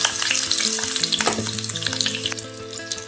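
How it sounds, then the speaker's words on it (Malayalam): Large-cut onion, a small piece of ginger and a few garlic cloves sauté in hot oil in a pan for Chana Masala, a steady close sizzle with stirring scrapes and no voices. "സവാള ചേർക്കാം വലിയ പീസായിട്ടാണ് സവാള മുറിച്ചിരിക്കുന്നത് അതുപോലെ ചെറിയൊരു പീസ് ഇഞ്ചി മൂന്നാല് വെളുത്തുള്ളി ചേർത്തിട്ട് നന്നായി വഴറ്റിയെടുക്കാം"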